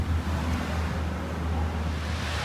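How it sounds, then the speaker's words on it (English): A roughly 100-foot waterfall roars as a steady, broadband rush of falling water with low rumble and wind noise, continuous and unbroken. "Waterfalls, maybe 100 feet tall."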